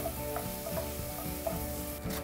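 Chopped red onion frying in a pan over high heat, a steady close sizzle with occasional stirring scrapes and no voices.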